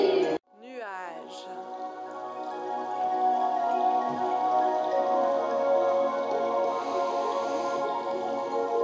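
A group of children aged 10 to 12 at a theatre workshop imitate rain with body percussion, a soft, continuous pattering that builds and holds, with a brief voice at the start.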